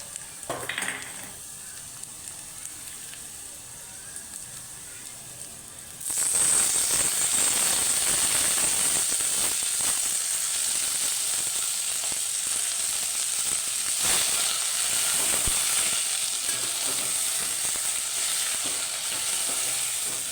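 Fenugreek leaves dropped onto browned onion in a hot pan for a Maharashtrian methi and moong dal dish, quiet clinks giving way to a sudden loud, sustained sizzle with stirring scrapes, close and continuous.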